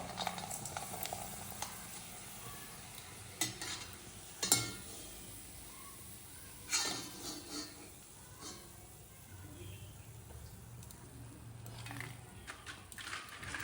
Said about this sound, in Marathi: आपण हा परतून दोन्ही बाजूनी तळून घेऊयात